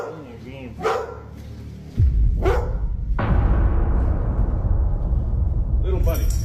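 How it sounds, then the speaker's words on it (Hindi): A dog barks at something indoors, with a few short, sharp barks spaced across the stretch over a heavy, continuous rumble, while people talk nearby. "वाई का कुत्ता चार्ली को किसी चीज पर भौंकते हुए सुना जा सकता है"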